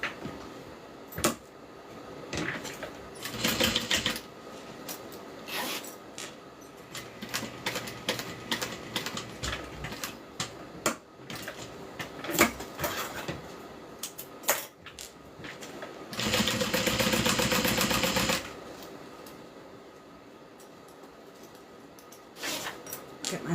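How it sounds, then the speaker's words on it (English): Sewing machine stitching a zipper into a bag panel in repeated bursts of rapid mechanical clatter separated by short pauses, including one longer continuous run, with faint talk in places. "I'm going to go ahead and sew it in."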